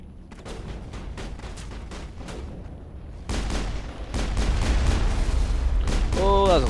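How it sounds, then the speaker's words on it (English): Rapid bursts of gunfire and booming blasts in the video game Mass Effect pile up into dense, loud combat noise, with a synthetic chirp near the end. "that was a lot of explosions"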